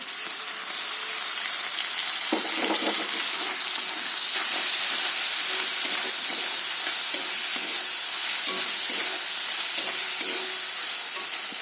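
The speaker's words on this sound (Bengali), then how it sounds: "পেঁয়াজ কুচি ভালো করে লাল লাল করে ভেজে নেবো" Continuous hiss and sizzle of onion and ginger paste frying in a hot pan, with occasional scraping and stirring sounds.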